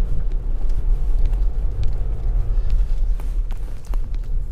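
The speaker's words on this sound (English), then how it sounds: "it deals with these puddles really well, really easily." A Ssangyong Korando drives off road through puddles, its engine a close, steady rumble with faint splashes and knocks over the low drone.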